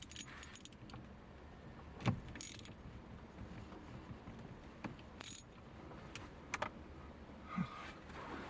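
Ratchet driving a Torx 30 bit on the steering wheel bolts of a Nissan 350Z, with faint metallic clicks and jangles and a few brief louder clanks, quiet and close with no talk.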